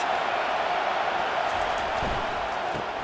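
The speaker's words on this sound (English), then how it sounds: "They challenge this crowd to bring the energy, and I'd say they're doing that." Stadium crowd cheering in the EA Sports College Football 25 video game, a continuous broad roar of many voices that stays loud and even throughout.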